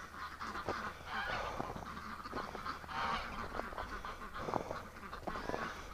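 Muscovy ducks, ducks and geese calling outdoors at a winter swamp and creek, a busy overlapping chorus of honks and quacks at moderate distance, fairly faint but continuous.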